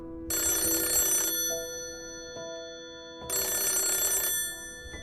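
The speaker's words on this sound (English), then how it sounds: "The phone rang again." Two electronic phone rings, each about a second long, separated by a pause, with a softer tonal hum lingering between them.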